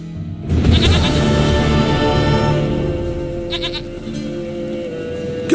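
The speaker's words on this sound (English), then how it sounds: "Goat of mine, dearest, sweetest goat!" A goat in The Witcher 3: Wild Hunt lets out a loud, sustained bleat, one long wavering cry held close and clear with no talk over it.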